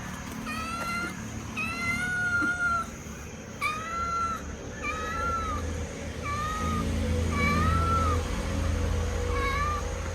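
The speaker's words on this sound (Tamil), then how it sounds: "அந்த பூனையினுடைய குரல் இப்படி இருந்தது" A kitten meows repeatedly, a series of rising and falling cries about every second, fairly close over a steady low background hum.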